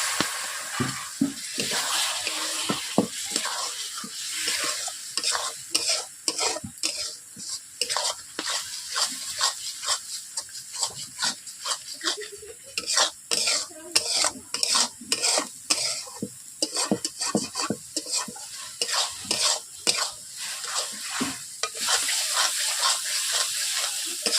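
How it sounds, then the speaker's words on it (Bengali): Spices with chilli powder, turmeric and a splash of water are stir-fried in a kadai, a spoon scraping and stirring in quick irregular strokes over a soft steady sizzle, close and alone. "এইভাবে আমি 5 মিনিট ধরে মশলাগুলো কষিয়ে নিয়েছি।"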